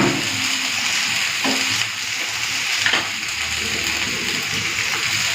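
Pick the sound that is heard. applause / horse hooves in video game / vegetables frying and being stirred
vegetables frying and being stirred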